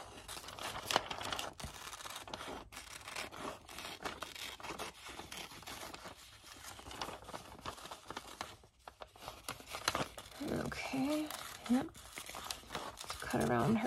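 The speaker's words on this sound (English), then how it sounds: "I'm going to kind of just roughly fussy cut around these people here." Paper pictures for a glue book are roughly cut with scissors in short snips and crinkles, with paper rustling between cuts. Someone talks softly throughout the cutting.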